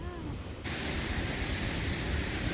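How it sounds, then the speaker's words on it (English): Cumberland Falls, a large Kentucky waterfall in a gorge, roars as a steady, dense broadband rush that swells louder after a brief quieter start and then holds constant and close. "that's a pretty impressive waterfall"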